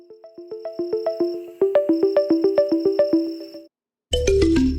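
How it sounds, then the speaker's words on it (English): A phone notification: a bright, repeating electronic chime melody plays loudly in quick pulsing notes, then stops and is followed by a brief burst of noise. "Just got a notification."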